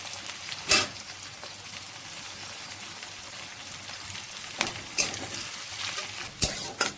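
Onions sizzle and fry in a pan under a steady hiss, with a few sharp clatters of a spoon stirring them, close by, no clear talking.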